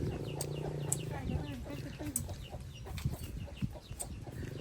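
Chickens cluck in a rural Lao setting of wild bamboo forest after rain, with a rooster-like call and short bird notes repeating close by, over a low rumble while people talk at moderate volume.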